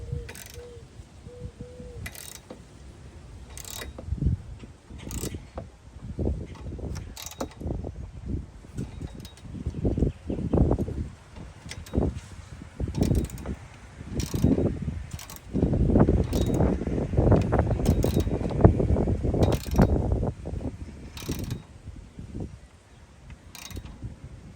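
Bolts being tightened on a Baja Designs LP9 Pro light mount on a CAtuned Hammerhead bumper of a Sprinter van, heard as close, repeated ratcheting clicks and metallic mechanism sounds with a steady rhythm and no talking.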